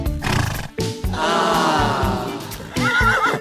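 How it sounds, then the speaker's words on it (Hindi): A foal on a farm neighs loudly and close by, a long shaky whinny that fills most of the stretch, with a few brief breaks and a higher, wavering call near the end. "घोड़े का बच्चा है।"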